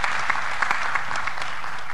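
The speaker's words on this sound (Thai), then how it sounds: "ปรบมือต้อนรับ" A seminar audience of Thai investors claps to welcome a guest, dense steady applause from many hands at moderate loudness.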